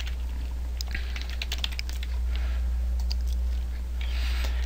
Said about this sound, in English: I can just type in a name and click Next